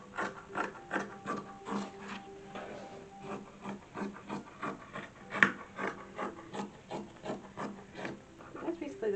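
Scissors cut cotton fabric pieces for an 1850s-style dress in a steady run of close, rhythmic snips and rustles that continue throughout with no pause.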